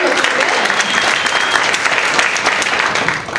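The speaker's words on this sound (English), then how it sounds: "Give yourselves a round of applause" Loud, full applause from a comedy club crowd, a thick continuous roar of many hands clapping close by, sustained evenly and tapering slightly at the very end.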